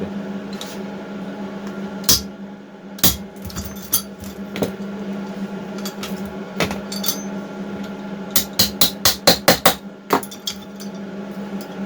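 A hammer strikes valve parts from a seized four-stroke engine with a broken valve. Scattered sharp metallic taps build to a quick run of about seven close, ringing blows, with no voices.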